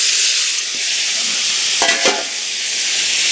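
Half-boiled kohlrabi being stirred into spices in a pan, giving a steady broad sizzle with a couple of brief scraping stirs near the middle, close and fairly loud with no voices.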